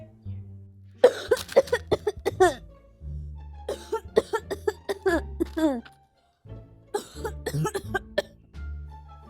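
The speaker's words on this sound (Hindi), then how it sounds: "वो कब से खांस रहा है?" A boy coughs repeatedly at home in bursts of harsh, throaty coughs, spaced by short pauses, close and fairly loud, with children and someone talking around them.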